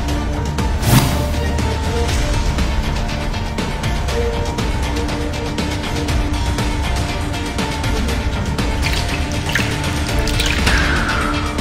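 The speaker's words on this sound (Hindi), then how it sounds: "सी ब्लॉक परिसर में ये पानी जिस तरह लीकेज हो रहा है" Water leaking from pipes in the C block premises, with a steady splashing, trickling flow running throughout and a few sharper drips and spatters near the start and toward the end.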